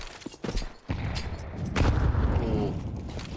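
A grenade blast in Counter-Strike on the Mirage map during an ESL Challenger League match, a sharp boom followed by sustained rumbling gunfire-like noise, mixed with game sounds.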